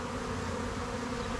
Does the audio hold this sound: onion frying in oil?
no